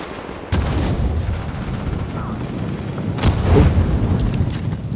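Grenades explode during a firefight in the video game The Division. A sudden loud blast is followed by rumbling combat noise and a second heavy boom, with players talking over the action.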